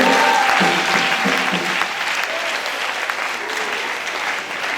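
A church congregation applauding, a loud, dense wash of clapping from many hands that carries on steadily and eases slightly toward the end, with faint voices mixed in.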